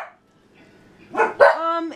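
A dog barks and yips twice in quick succession close by, the second bark longer and drawn out into a whine, after a brief stretch of quiet.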